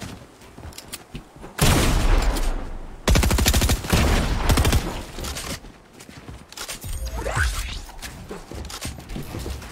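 Bursts of rapid automatic gunfire in a shooter video game as a player is shot by a teammate: loud, dense volleys in two main stretches, then lighter scattered shots and game effects.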